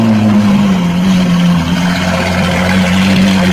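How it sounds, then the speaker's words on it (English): A motor engine runs steadily at a loud, close level, its low droning hum holding a constant pitch with only a slight sag partway through, with no voices over it. "Engine start."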